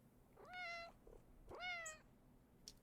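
Whiskey, a cat in a video game, meows twice, clear and close. Each call is a rising then falling cry with a short pause between the two, heard against a quiet background.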